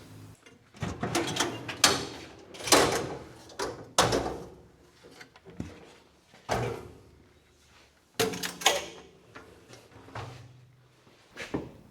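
Metal hinges are bolted onto a camp kitchen assembly with a series of irregular knocks, clunks and scraping handling sounds, close and fairly loud, separated by short pauses.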